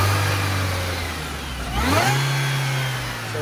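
A Mini car engine idles low, then revs up sharply once to a higher steady pitch, close and fairly loud.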